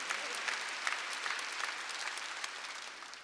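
A Korean church congregation claps together during a Sunday worship service, giving a full, busy burst of applause that stays strong and then eases off slightly toward the end.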